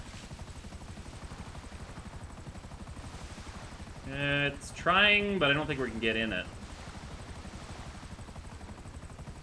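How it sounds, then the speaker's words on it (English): Helicopter in GTA V, a steady rotor-and-engine rumble that holds throughout, with voices talking over it partway through. "Nitz, did you just get hit by the helicopter?"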